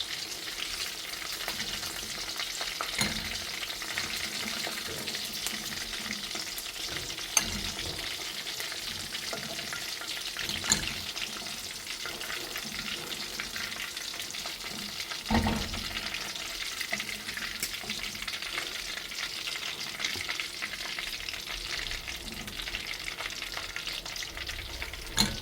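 Ginger, garlic and green chili sizzle steadily in hot oil for chicken lollipop, a dense continuous frying hiss with occasional stirring scrapes and pops, close and loud throughout.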